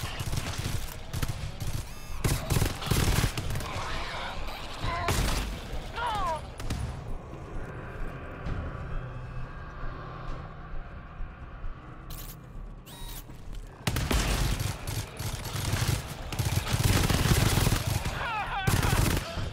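An automated sentry gun in the co-op shooter GTFO fires in bursts during a horde fight underground, loud stretches of rapid shots broken by a quieter mechanical lull, with players talking throughout.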